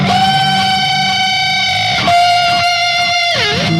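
An electric guitar played through distortion and effects sustains a note, then bends it up and back down with a wavering pitch. It is loud and close, with no voices.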